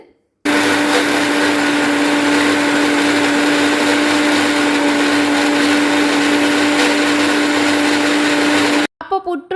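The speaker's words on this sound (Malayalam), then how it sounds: "നാല് എഗ്ഗ് എടുത്തിട്ടുണ്ട് അതിലേക്ക് കുറച്ച് പഞ്ചസാര പിന്നെ ഒരു ഏലക്കായും ഒരു നുള്ളുപ്പും കൂടെ ഇട്ടിട്ട് മിക്സിയിൽ നന്നായിട്ടൊന്ന് അടിച്ചെടുക്കും" An electric mixer grinder runs steadily and loudly for about eight seconds, beating four eggs with sugar, a cardamom pod and a pinch of salt, with a sharp start and an abrupt stop.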